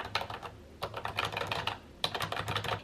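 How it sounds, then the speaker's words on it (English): Keys on a small computer keyboard clack quietly in quick bursts, with a short pause before another run of typing, close and soft with no voices. "I just set up the little keyboard, and it's so helpful."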